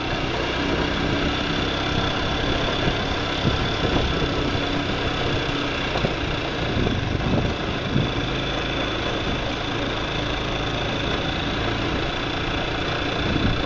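A motorcycle that is losing power runs continuously in a loud, steady drone, heard from a helmet-mounted camera on a street ride, with no speech.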